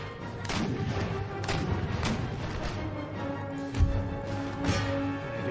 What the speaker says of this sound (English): We've got more artillery where that came from.